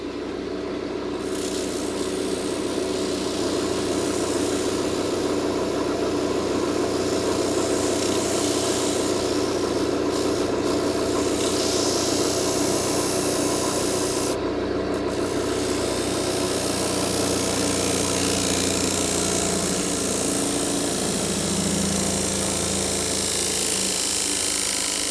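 Wood lathe spinning a cheese board blank while a clean cloth is pressed against it for friction polishing, giving a steady, continuous mechanical hum and rubbing whir at close range throughout, with no talk.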